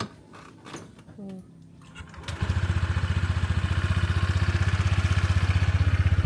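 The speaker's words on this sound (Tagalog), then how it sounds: "Ang kanyang bagong motor." A new motorcycle engine starts after some faint rustling and quiet voices, then settles into a loud, steady chugging idle with a rapid even pulse close by.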